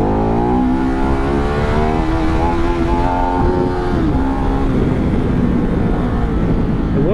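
A motorcycle engine revs hard for a power wheelie on a California canyon road, loud and close, with rising and falling pitch sweeps as the throttle opens and eases, steady wind noise throughout.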